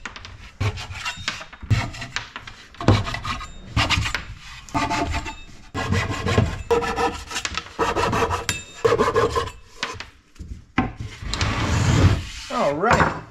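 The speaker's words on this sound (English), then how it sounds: "the nice thing about dry fitting the bungs is that you can trim them right away." A tool rasps and scrapes steadily as dry-fitted wooden bungs are trimmed flush on a wooden boat, close and continuous with brief pauses and knocks.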